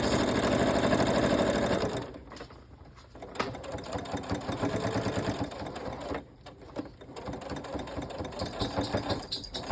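A sewing machine runs in a fast continuous whir of stitching, pausing briefly twice before resuming, close and loud.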